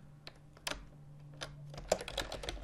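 Typing a command on a computer keyboard: a quick, faint run of soft key clicks, irregular and close, alone without talk.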